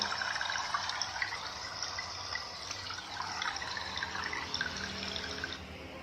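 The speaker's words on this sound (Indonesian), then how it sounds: "Suara air." A clear little stream burbles over rocks, a soft, continuous trickle and splash heard at a gentle, even level throughout.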